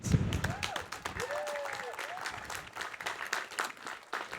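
Audience at a graduate commencement ceremony applauding award-winning students, a sustained roomful of clapping with a voice briefly audible over it.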